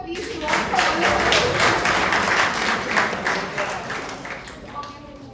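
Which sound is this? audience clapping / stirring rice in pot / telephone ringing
audience clapping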